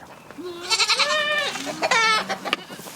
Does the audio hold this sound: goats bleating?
yes